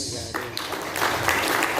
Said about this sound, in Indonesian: Kita berikan tepuk tangan untuk Bapak siapa?